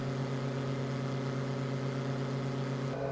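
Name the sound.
Diamond DA20 aircraft engine in Microsoft Flight Simulator 2020 video game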